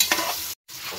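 Chopped onions hit a hot frying pan with a loud burst of sizzling, briefly cut to silence and then resuming as a steady crackling fry.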